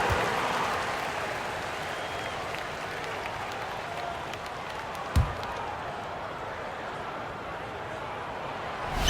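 An NBA 2K23 basketball crowd applauds and cheers steadily in the background, a broad wash of clapping with a single sharp thump partway through.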